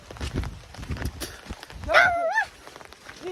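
A dog on a rural Nepali farm gives a short, wavering whine-like yelp midway, amid shuffling footsteps and rustling outdoors.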